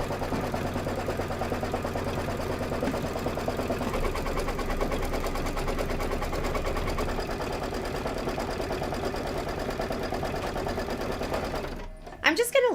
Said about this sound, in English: And I'm going to go ahead and stitch it out.